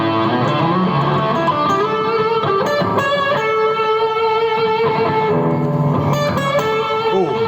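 Electric guitar played through a BOSS GT-1000 processor with solo boost and delay engaged, a loud, dense, sustained lead line with ringing harmonics and overlapping delayed notes, played alone.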